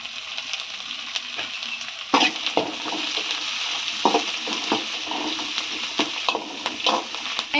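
Onions sautéing with green chili and curry leaves in a pan for a cabbage gravy, a steady close sizzle with intermittent scraping stirs and occasional utensil knocks.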